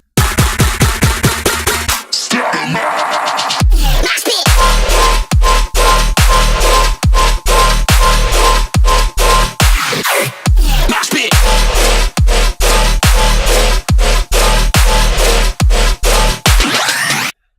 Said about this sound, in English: take old songs, well, old, I don't know, released songs, I suppose, and turn them into a Riddim banger.